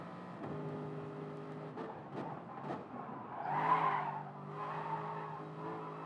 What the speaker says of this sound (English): See how well he keeps control of the car through the trickier corners.